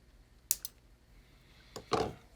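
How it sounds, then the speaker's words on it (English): Cutters snip a component lead during repair of a Sencore LC-53 capacitor tester, giving a couple of sharp, close clicks, then a louder snap as the piece is cut, against a quiet background. "Okay, we'll snip this off."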